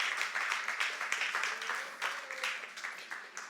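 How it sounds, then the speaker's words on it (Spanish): A church congregation at a worship service claps in a fairly soft, scattered applause, steady for a few seconds with no talk over it. "Eso merece un aplauso al Señor"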